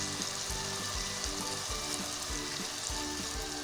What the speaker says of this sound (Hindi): अब हम इसमें ऐड कर लेंगे भिंडी।